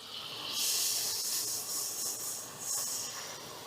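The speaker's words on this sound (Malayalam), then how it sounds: "നമ്മളിതിൻ്റെ ബാക്കിയുള്ള ബട്ടറിലേക്ക് കുറച്ചും കൂടെ ബട്ടർ കൊടുക്കണ്ടേ." Butter left over from frying paneer sizzles in a pan, a steady close hiss that swells and eases in waves, with no voices over it.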